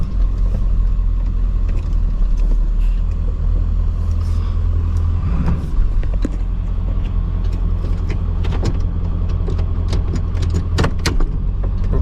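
A 1996 Ford Powerstroke diesel truck driving, a steady deep low engine rumble and cabin drone with scattered rattles and clicks, close and loud throughout, no talk.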